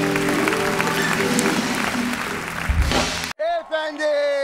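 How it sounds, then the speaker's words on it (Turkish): Studio audience applause and cheering on a TV talk show fill most of the clip, loud and steady, then cut abruptly to a person speaking. "bir alkış alalım"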